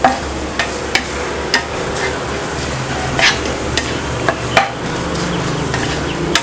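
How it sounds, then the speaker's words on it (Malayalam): Coconut roasting in a pan over a medium flame gives a steady, close sizzle broken by regular scraping knocks as it is stirred, roughly every half second. "ഒരു മീഡിയം ഫ്ലെയിമിൽ വെച്ചിട്ട് റോസ്റ്റ് ചെയ്തെടുക്കുകയാണ്."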